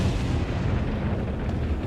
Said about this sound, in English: You want to see the explosion happen though.